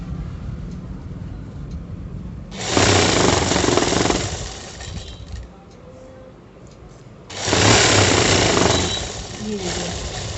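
A sewing machine stitches a palazzo in two close, loud motor runs of a few seconds each, separated by a pause, with a person talking between the runs.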